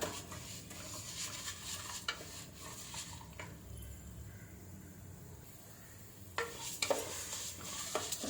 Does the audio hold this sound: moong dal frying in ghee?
yes